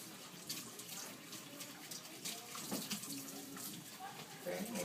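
Tap water runs continuously to rinse out a denture cup in a sink, a steady splashing stream that stays close throughout.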